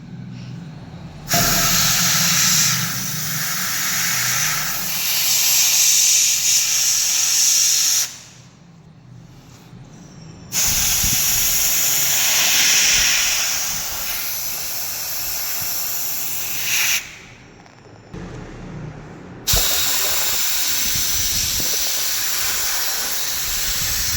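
A compressor-driven spray gun paints a lotus on an idol in long, loud hissing strokes, three sustained bursts broken by short quiet gaps, close up with no talk.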